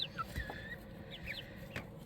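Pet chickens cluck outdoors, several soft quick clucks and little rising calls scattered over faint background ambience.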